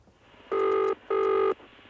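A telephone rings twice in a recorded call, two loud, evenly spaced electronic double bursts separated by a brief pause, clear and close with quiet line noise around them.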